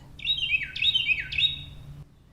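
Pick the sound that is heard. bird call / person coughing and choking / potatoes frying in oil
bird call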